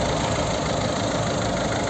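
A 2009 Ford C-Max with a 1.6 diesel engine of 109 hp and a manual gearbox idles close by, a loud, steady, even drone with a faint knocking texture and no voices.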